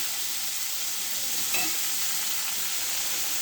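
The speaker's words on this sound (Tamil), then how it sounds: "இப்போ வெங்காயம் பச்சை மிளகாய் போட்டு வாங்கணும்" Sliced onion and green chili frying in a pan for potato masala for puri, a steady broad sizzle with a brief stir scrape midway, close and continuous with no talk.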